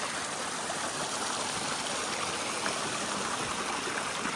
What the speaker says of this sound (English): it looks like we have a little creek crossing right here